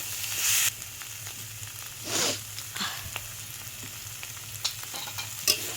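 Ground spices sauté in a pan for a prawn curry cooked with taro leaves, giving a steady sizzle with a few louder stirring scrapes and short bursts of crackle; no one speaks.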